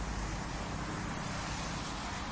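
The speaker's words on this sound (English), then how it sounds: "Listen to the tires whispering on the wet road." Car tires hiss softly on a wet road in a faint, steady, even wash of noise with a low rumble underneath, continuous and unbroken with no voices.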